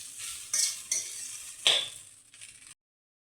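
Grated coconut frying in a pan for semolina laddoos, stirred with a metal spoon: a soft sizzle punctuated by several sharp clinks and scrapes against the pan, ending abruptly in silence.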